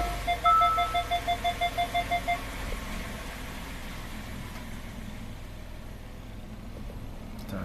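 A Hyundai car with a quick run of rhythmic chime beeps at the start, then the engine catching and settling into a steady low idle hum, heard close and alone.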